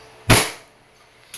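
A WE airsoft Glock 17 F-Series pistol with silver slide fires one sharp, loud crack, which decays over a fraction of a second, followed by a second shorter snap near the end.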